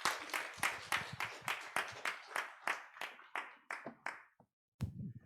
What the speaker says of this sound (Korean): 우리 힘찬 박수로 모시겠습니다.